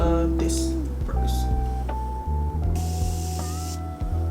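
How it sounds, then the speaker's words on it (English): Morphe makeup setting spray misted on in three short bursts, a steady airy hiss around half a second, near one and a half seconds and a longer one near three seconds, heard over a soft background music bed. "But now I'm gonna go ahead and add my setting spray."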